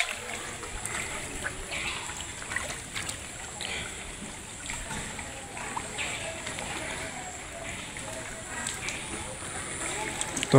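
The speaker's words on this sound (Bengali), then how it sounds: "এই যে কি পরিমাণ পানির ঢল নামছে।" Floodwater rushing across a field after one night of rain in Sherpur district, a continuous rough flowing and splashing of water under someone talking.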